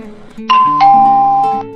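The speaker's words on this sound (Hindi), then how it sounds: "इससे पहले डोरबेल बजती है" A loud two-tone doorbell chime rings once, bright and clear, ringing out over a soft low background.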